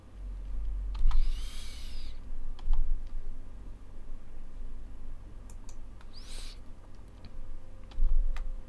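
Computer keyboard keys pressed for a shortcut, a few sparse clicks and taps spaced across several seconds over a low steady room hum, close and fairly quiet, no talking.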